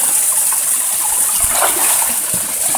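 River water flowing beside a trail on the way to the Rio Seco falls, a loud, steady rushing hiss of moving water, close and constant with no voices over it.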